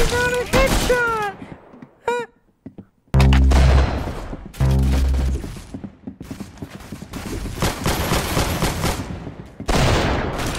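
Gunfire in the Roblox shooter Arsenal: loud close bursts and rapid volleys of shots with booms, separated by short gaps, a voice speaking over parts of the action.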